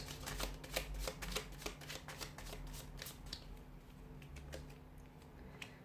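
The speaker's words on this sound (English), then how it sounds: "let's give the cards a shuffle" Tarot cards are shuffled in quick, crisp riffles, close and fairly quiet, followed by a few softer taps as the deck settles.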